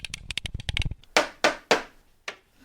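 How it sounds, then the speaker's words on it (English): A pencil sharpener used as a makeshift gavel: a quick patter of light taps and handling, then three hard, loud knocks close together and one final knock, nearby with no talking. "I just broke my pencil sharpener. Don't use a pencil sharpener as a gavel."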